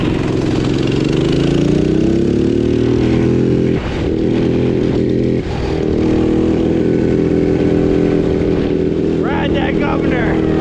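A small engine on a $100 minibike fitted with a governor runs loud and close, its droning pitch rising, dipping briefly twice, then settling, with a voice shouting over it.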